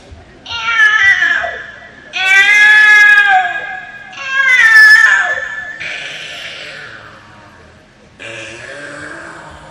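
A human voice imitating two cats fighting: a series of drawn-out, wailing yowls and snarling cries, loud and close, rising and falling in several separate bursts with short gaps between.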